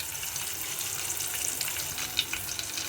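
Garlic drops into about three spoons of hot oil and sizzles in a pan, a steady hiss with a few sharp pops and crackles, close and fairly quiet.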